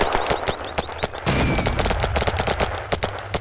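Gunfire in the video game Battlerush 2, a mix of irregular sharp shots and short automatic bursts with booming reports underneath, fairly close and loud, no voices.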